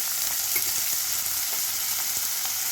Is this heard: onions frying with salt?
yes